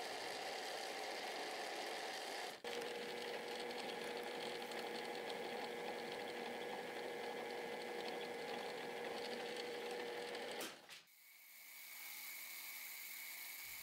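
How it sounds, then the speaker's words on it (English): A milling machine cuts the carburetor hole in a tiny scratch-built 2-stroke engine, giving a steady, loud machining whine with a constant tone, which stops abruptly near the end, leaving a quieter hum. "Now in the milling machine, this hole is where the carburetor will fit into."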